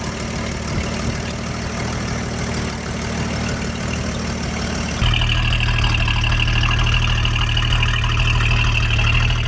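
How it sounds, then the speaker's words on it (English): Engine of a 1957 GMC 450 water well drilling rig idling steadily at close range, a rough low rumble that turns louder and fuller about halfway through, continuing without any talk. "I'm really stoked that the engine is running. It sounds beautiful."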